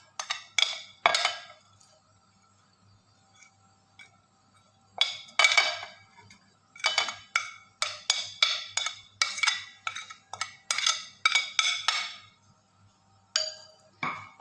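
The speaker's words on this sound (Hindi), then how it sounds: "ये सारी चीज़ें हम इसमें डाल लेते हैं।" Finely chopped vegetables for sandwiches being added to a bowl: close, intermittent clinks and taps of a utensil against the bowl in irregular clusters over a quiet background.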